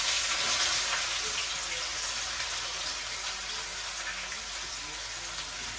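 Chopped onion sizzling in hot oil in a pan, a loud hiss at first that settles into a steady, even frying crackle throughout, with no talking.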